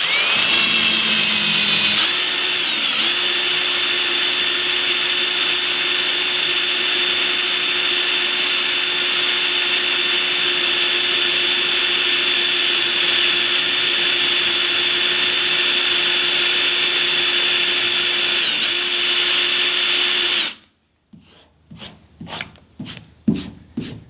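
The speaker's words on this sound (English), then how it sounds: "let's give the stripe-off wheel a go. We're going to put your drill on low speed" A power drill spinning an eraser wheel on car paint whirs steadily at high pitch for about twenty seconds, its tone dipping briefly under load, then stops, followed by a few sharp rubbing strokes.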